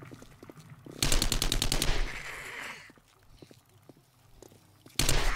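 Rapid automatic gunfire from the zombie survival game 7 Days to Die, a loud burst of bursts and shots with quieter footsteps and clatter between, then another volley at the end.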